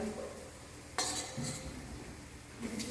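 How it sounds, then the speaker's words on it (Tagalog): Garlic and onion dropped into a dry pan with no oil, giving a sharp metallic clink followed by a faint hiss and the soft scrape of stirring, quiet and close with no talk. "put the garlic, then the onion, without any oil, single drop of oil"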